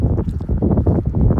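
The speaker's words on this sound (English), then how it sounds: "Now it's like randomly getting windy." Gusty outdoor wind buffeting the microphone on a hot day, a loud, rough low rumble with choppy pulses throughout, no talking.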